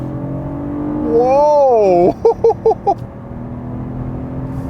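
Revving in sports mode, the engine of a 2022 Kia Cadenza rises and falls loudly, then gives four short throttle blips. A voice calls out briefly near the end.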